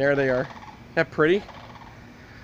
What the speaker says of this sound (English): if you hear that croaking in the background, that's actually a crow. We have a sandhill crane.